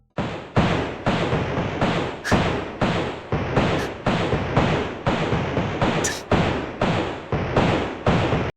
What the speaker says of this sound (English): Gunshot. I don't know why this is like a standard in sound fonts,